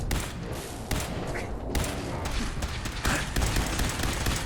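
Gun firing in Fallout 4, a steady stream of dense shots and mechanical clatter filling the whole short stretch at a fairly even loudness.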